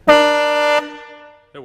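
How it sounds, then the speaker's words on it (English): A 1973 International Harvester 1210 4x4 survivor truck sounds its horn in a single loud, brassy blast of under a second, close up, followed by a brief faint voice. "I wanted to show you the horn."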